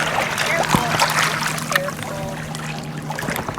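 Feet wade and splash through shallow lake water at sunset, with several distinct sloshes and trickles close by, while a person talks over the watery movement.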